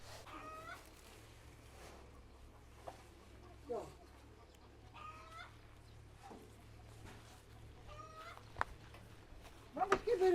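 Hens cluck softly now and then as they eat grain, against a low steady hum, with a few faint scattered noises and a louder burst near the end.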